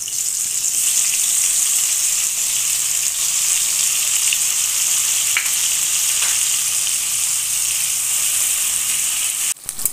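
Dried shrimp (sukhua) frying in oil in a pan, a loud continuous sizzle with bright hiss and small pops, ending with a brief clatter near the close, no speech.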